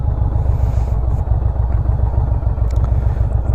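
Motorcycle engine running low and steady during slow turn practice with the clutch being let out, a close continuous throbbing rumble with light clatter and no talking.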